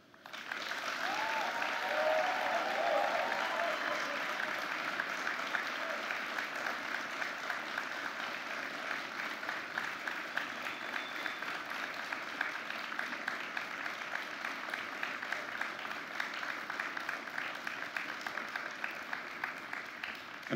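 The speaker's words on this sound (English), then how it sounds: "please thank them with your applause." Steady applause from a large audience at a college commencement ceremony, dense and sustained for about twenty seconds, holding an even level throughout with a faint murmur underneath.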